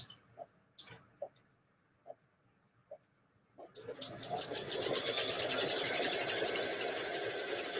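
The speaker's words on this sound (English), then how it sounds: "We're going to stitch our placement line." A ScanNCut sewing and embroidery machine starts up after a few faint clicks and settles into a steady, loud, rapid stitching run, sewing a placement line, likely on a towel.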